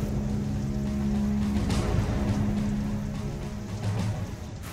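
Steady heavy rain pours onto a street, a dense continuous wash of drops with a low rumble underneath, loud and close with no voices.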